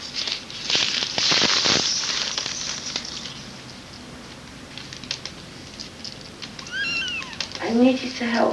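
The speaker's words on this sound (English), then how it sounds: "I need you to help feed my kittens." Kittens meowing in a 1991 drama scene: a burst of noisy rustling and crackle at the start, then several thin, rising meows toward the end, fairly close, with talk nearby.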